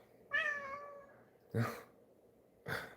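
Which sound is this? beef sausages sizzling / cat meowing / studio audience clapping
cat meowing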